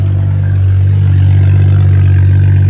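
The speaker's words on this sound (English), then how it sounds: "Cold start actually sounds pretty nice." A BMW 335i (F30) engine idles steadily after a cold start, a deep constant drone with a faint clatter, loud and close throughout.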